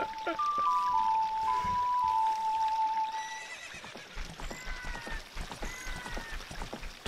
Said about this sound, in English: Right, get on the horse.